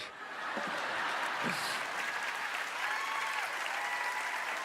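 A theater audience at a televised talent-show magic performance breaks into steady, sustained applause, a dense wash of clapping with a few faint cheers. The clapping fills the space and continues evenly throughout.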